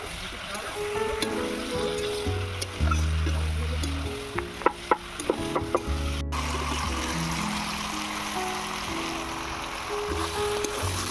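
Vegetables (kohlrabi, tomato, peas) sautéing in a pan for a rohu fish curry, a steady close sizzle with scraping stirs and a few sharp utensil clinks, under a low hum of background sound.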